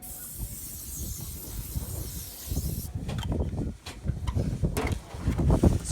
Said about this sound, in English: You just spray that turtle wax adhesive remover on there.